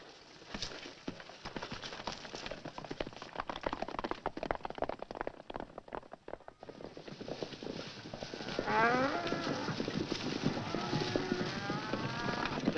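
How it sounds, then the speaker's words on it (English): Cattle low and moo across a herd, with hooves clopping and a steady outdoor rumble beneath. "Take the cattle back to the valley."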